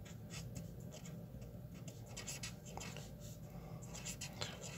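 A pen scratches across paper up close while a fraction is written out by hand, with soft, quiet, irregular strokes over low background hiss and no talking.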